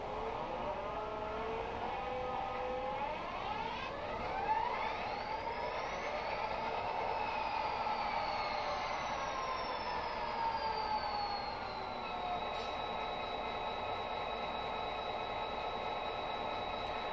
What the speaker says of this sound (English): we'll look at the startup sound first